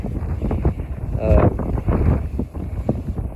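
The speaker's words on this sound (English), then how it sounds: "It's awful windy outside right now" Steady wind buffets the microphone with a low, rumbling roar throughout.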